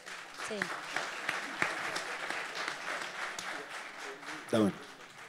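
Audience applause at a talk on the hydrocarbon industry, a steady patter of clapping through the room with speech over it and a louder voiced burst near the end.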